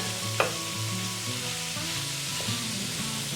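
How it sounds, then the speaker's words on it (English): Ground meat fries in a frying pan with a continuous loud sizzle and crackle, a spatula breaking it apart with occasional soft scraping strokes. "we're going to go ahead and start separating and get it fried off"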